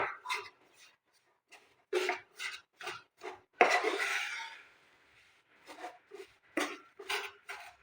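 Besan laddu mixture being stirred in a kadai with the gas off, a series of short scraping, rasping strokes against the pan, with one longer scrape in the middle, close and fairly quiet.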